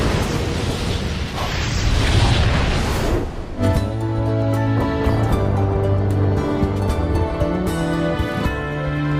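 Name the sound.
explosion of a ship in an anime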